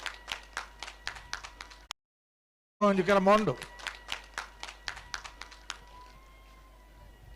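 Spectators clap in a steady, rhythmic pattern at a Kambala buffalo race semi-final in Naringana. A loud voice briefly speaks over the clapping, and the claps continue and fade toward the end.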